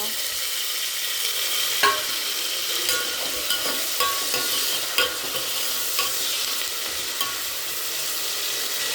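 Tomatoes with salt sautéing in a pan for eggplant biryani, a steady broadband sizzle running throughout with a spatula scraping and clicking against the pan at irregular intervals, close and moderately loud, no talking.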